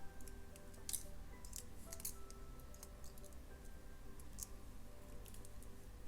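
Sharp, bright snips of jewellery wire being cut with cutters while finishing a wrapped loop on a carnelian and amethyst beaded necklace, several crisp clicks spaced irregularly over quiet background hiss.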